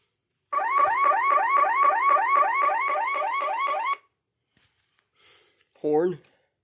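Car alarm from a Road Rippers 2003-2004 Ford Bronco Concept toy: a loud, fast electronic warble repeats steadily for about three and a half seconds, cuts off, and is followed by a brief separate sound.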